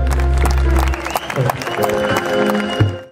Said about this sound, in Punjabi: ਤਾੜੀ ਲਾ ਦੇ ਜੀ,